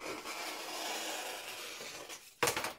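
Scissors cutting through cardboard trim, giving a steady scraping rasp that runs for about two seconds, then one sharper, louder snip near the end.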